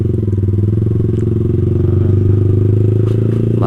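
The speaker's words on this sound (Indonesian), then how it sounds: "Padahal enak banget suaranya ini, knalpot paling enak semasa aku pakai knalpot racing" A Yamaha motorcycle fitted with an R9 GPX SS racing exhaust idles loud and close, a deep throbbing burble with rapid pulsing firing beats and a few light rattles.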